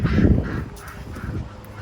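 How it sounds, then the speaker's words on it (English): Ducks quack repeatedly outdoors, loud and nasal, with a low background rumble throughout. "Ducks are quacking."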